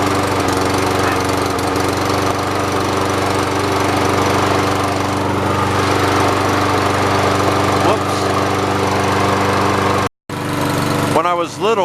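A push mower's small gasoline engine running steadily and loud at close range after being started, with a brief cutout near the end followed by a sputtering restart.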